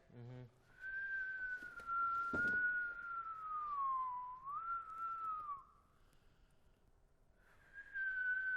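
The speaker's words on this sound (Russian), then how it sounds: "Не свисти, денег не будет." A person whistles a wavering, melodic tune indoors, nearly continuous for several seconds, then pauses briefly before resuming; a short thud and faint background sounds occur.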